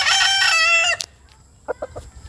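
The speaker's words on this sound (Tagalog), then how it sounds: "sumagot ang manok." Rooster crowing once loudly and close, a long harmonic call lasting about a second, followed by a few soft clucks.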